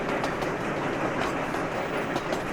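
Train rolling along in the railway-building game Sweet Transit, a steady rumble with soft rhythmic clatter of wheels on track, moderately loud and unbroken, with no talking.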